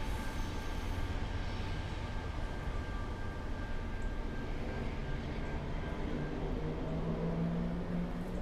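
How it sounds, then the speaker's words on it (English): A CSX freight train rolls through the Dalton rail yard, giving a steady, continuous low rumble and rolling rail noise with faint ringing overtones, unbroken and without voices. "4396, our end of train"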